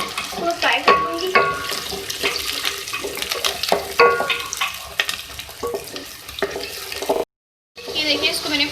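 Sliced medium onions frying in a pan, a steady close sizzle broken by stirring scrapes and clinks, with a brief silent gap near the end before the sizzling resumes.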